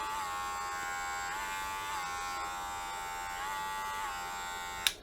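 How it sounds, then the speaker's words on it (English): Electric hair clipper runs with a steady high-pitched buzz, pitch wavering slightly a few times, ending with a sharp click. "Let me turn it on for you guys. It's like classic senior sound."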